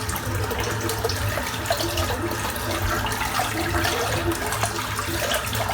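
Water runs steadily into a bathroom sink, rinsing away a full load of Castle Forbes Lime shaving lather. The splashing rush holds constant and fairly close throughout, with no talking.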